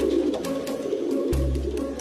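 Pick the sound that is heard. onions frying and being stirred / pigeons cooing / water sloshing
pigeons cooing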